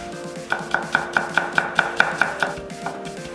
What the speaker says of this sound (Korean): 통마늘 작은 거 3개 다져서